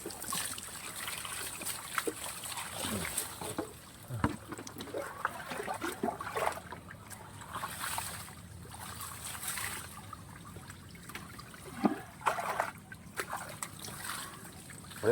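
Water being poured and splashed at a spring in Libagong, Baybay City, Philippines, with repeated trickles and splatters coming in uneven bursts at fairly low level.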